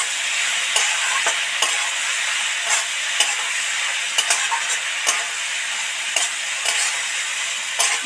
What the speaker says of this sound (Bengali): দিয়ে ভালো করে নেড়ে চেড়ে মিশিয়ে দেবো।